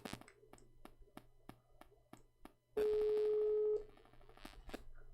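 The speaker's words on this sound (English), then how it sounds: "Let me call Amir" A telephone being dialed gives a faint, even series of regular clicks, then a steady tone holds for about a second before more scattered clicks.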